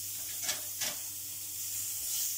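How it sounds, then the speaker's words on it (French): Shallots sweating gently in a pan for a poultry dish with savagnin sauce give a soft, steady sizzle and hiss, with two brief louder flares early on. "On va venir la faire suer tout tranquillement"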